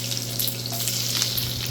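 Garlic dropped into hot oil already crackling with mustard seeds and cumin, a brief close sizzle that stays steady and even, with no talking.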